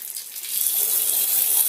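Water hisses and sprays from a pinhole in a Torbeck toilet fill valve, a bright, steady jet that starts softer and swells to a sustained, close-up spray with no talking.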